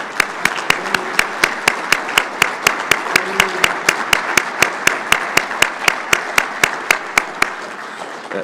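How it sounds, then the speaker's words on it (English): At a leadership dinner honoring Scout volunteers, the room claps in an even, regular beat, sharp hand strikes landing at a steady pace for several seconds. "Round of applause, please, for everyone"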